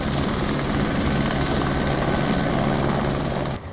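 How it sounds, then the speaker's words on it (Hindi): A rescue helicopter flies over a flood-hit area of Nepal, its steady, loud rotor and engine roar filling the scene before it briefly dips at the end. "सेना को लगाया गया है, जो हेलीकॉप्टर की मदद से रेस्क्यू ऑपरेशन चला रही है"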